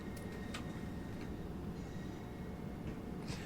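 Class 375 electric train slowing into Gillingham station in a Southeastern high speed rail simulation, a low steady rumble with brief wheel squeals and clicks on the rails, heard alone.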